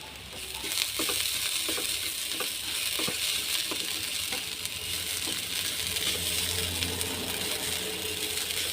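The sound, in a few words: stirring coconut thoran frying in a pan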